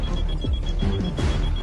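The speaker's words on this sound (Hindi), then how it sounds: "ये मिनी टाइमर बॉम्ब है।" Mini timer bomb in an action heist film beeping in a steady, insistent electronic alarm pattern, loud and close, with sweeping tones layered under it.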